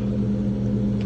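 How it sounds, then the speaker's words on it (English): Car engine idling with a newly fitted loud aftermarket exhaust, a steady, deep droning rumble with a strong low hum, close and continuous throughout. "Got new exhaust on my car. It's pretty loud now."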